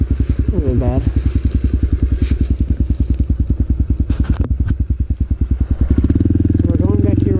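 Motorcycle fitted with a very loud aftermarket exhaust, ridden in third gear, its engine pulsing in a fast steady rhythm up close and growing louder near the end, with brief wind or handling noises over it.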